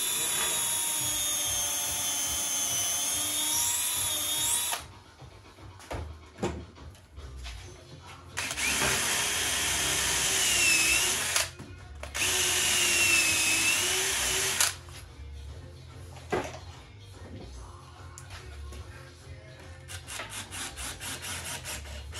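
A power drill whirs in long, loud bursts while driving screws into the wooden back of a fitted cupboard's bottom unit, with quieter pauses, scraping and knocks between bursts.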